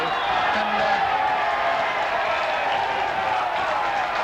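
A large crowd at an Australian rules football match, Central District versus West Adelaide in 1997, roars steadily and loudly in a sustained, distant wash of cheering and shouts.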